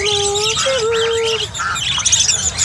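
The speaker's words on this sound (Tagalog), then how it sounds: "Yan po, gansa." A goose for sale calls at a busy bird market in Bocaue, giving a few honking squawks over steady crowd murmur and other birds chirping nearby.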